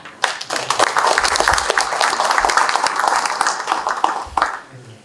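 An audience claps loudly and steadily for several seconds in an echoing hall after a presentation at a Korean history symposium, the applause fading out toward the end.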